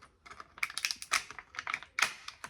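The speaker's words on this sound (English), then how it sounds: "Cut that plastic right there." Scissors snipping the plastic packaging that holds a WWE action figure, several short crisp cuts and crinkles in quick clusters, close by and fairly quiet with no talking.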